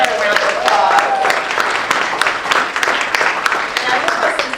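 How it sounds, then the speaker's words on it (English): Audience applause at a corporate social justice and equity event, a steady wash of many hands clapping, fairly loud and sustained, with a voice faintly audible underneath. "So let's give her a round of applause."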